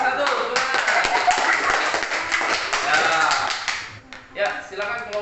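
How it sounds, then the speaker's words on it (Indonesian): A classroom group claps their hands together in a dense burst of steady applause that drops off near the end, followed by a few scattered claps. "Ya, tepuk tangan buat kelompok 1. Tepuk tangan."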